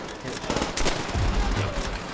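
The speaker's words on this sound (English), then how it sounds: "I thought I shot him" Rapid automatic gunfire in the video game Call of Duty: World at War, a dense burst of loud cracking shots layered over game noise, with no speech.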